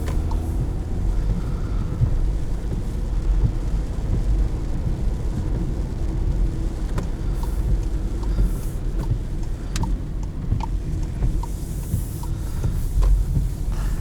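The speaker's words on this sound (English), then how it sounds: "I'm gonna do a little rev match downshift. Into 2nd." A 2020 VW Jetta's engine hums steadily from inside the car while the driver rev-matches a manual downshift into second, mixed with rushing wind noise and no one talking.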